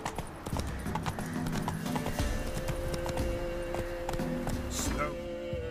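Horse hooves clip-clopping at a quick gait in The Witcher 3: Wild Hunt, rhythmic close thuds over a steady game soundscape, with a short snort or whinny and a voice briefly heard.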